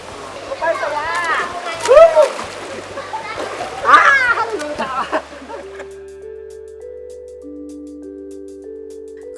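People splashing in a waterfall pool, the splashes mixed with excited shouts and voices before music takes over in the second half.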